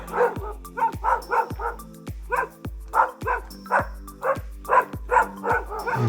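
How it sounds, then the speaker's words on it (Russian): A pack of about fifteen dogs kept at a couple's house in the Northern Cyprus mountains barks in repeated loud overlapping bursts, several dogs yapping at once with short pauses, fairly close. "И у них живет около 15 собак."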